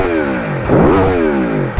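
Aprilia Tuono V4 Factory motorcycle engine blips once from a steady rumble into a sharp, loud rev that rises and falls back, heard up close while riding.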